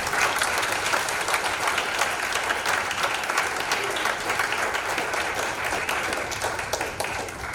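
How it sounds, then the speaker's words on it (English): A large audience at a university summit claps continuously, a broad, even roar of applause that fades slightly toward the end. "let's please have another round of applause for our very own Vishwa Shukla"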